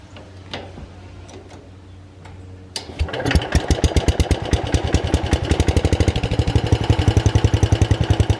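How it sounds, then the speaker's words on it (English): An old Kohler K241 engine cranks briefly with faint clicks, then fires at about three seconds and settles into a loud, steady, rapid putter that continues to the end, with no talk. "we're going to crank this thing up and see if this old K241 will"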